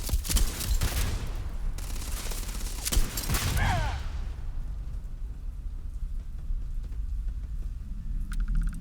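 Gunfire in the video game Starfield, dense bursts of rapid shots and blasts for the first few seconds, then a quieter rumbling combat ambience.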